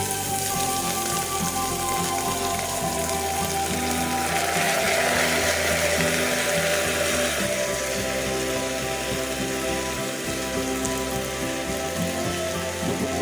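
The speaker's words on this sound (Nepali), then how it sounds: "र यसलाई हल्का एकछिन भुट्दै चलाउनु पर्छ।" Soaked, drained rice frying with nuts in a cooking pot for pulao, a dense continuous sizzling hiss with scraping and rattling from stirring, close and fairly loud, no voices.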